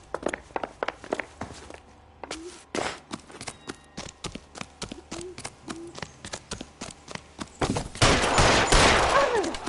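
Gunfire in the video game LA Noire: a rapid series of sharp, loud shots cracks out in uneven bursts, then gives way to a dense, noisy burst of action at the end.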